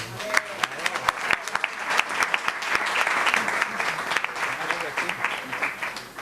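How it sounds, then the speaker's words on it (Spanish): A crowd in Marbella breaks into warm applause, a continuous patter of many hands punctuated by a few sharper, louder claps close by. "Susana Teruel, para la que pido el más ferviente aplauso"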